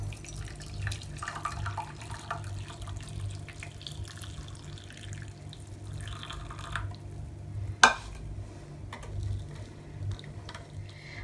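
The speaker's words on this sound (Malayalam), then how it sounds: "നമുക്കിനിത് ഒരു അരിപ്പയിൽ കൂടെ ഒന്ന് ഒഴിച്ച് ഒരു കപ്പിലേക്കോ ഗ്ലാസ്സിലേക്കോ മാറ്റാം." Tea pours through a strainer into a glass, a steady, soft liquid trickle with a brief clink partway through, with no voices.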